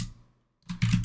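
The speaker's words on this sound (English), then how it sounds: "you have two people typing on the keyboard at the same time" Two people type on one computer keyboard at the same time, a short burst of rapid, clattering keystrokes that starts loud after a moment of silence.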